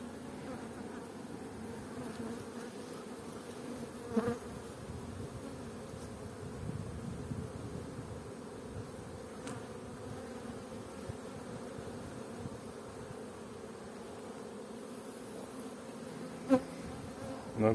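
Bees buzzing at an open beehive during an inspection, a steady low drone of many insects close by with a few louder passes, no talking.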